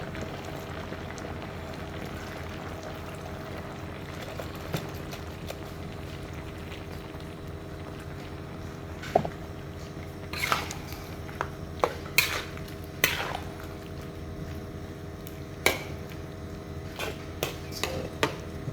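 Coconut milk poured into a pot of simmering jackfruit gulai on a gas stove, a steady low bubbling hum broken by occasional sharp spoon knocks and clinks against the pot.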